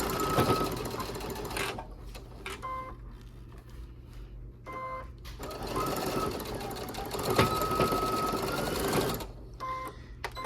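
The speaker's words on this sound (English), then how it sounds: "I'm gonna reinforce that stitch." Sewing machine with a quarter-inch foot reinforcing a stitch on machine-embroidered fabric houses, running in several loud, close bursts of rapid stitching separated by short pauses.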